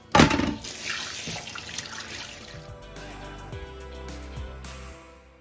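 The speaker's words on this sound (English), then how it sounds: "spray with warm water and everything" Warm tap water sprays hard into a kitchen sink being rinsed clean, a loud gushing burst at the start that drops to softer trickling and clinks of dishes and utensils, no talk.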